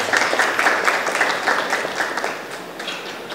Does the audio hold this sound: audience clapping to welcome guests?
yes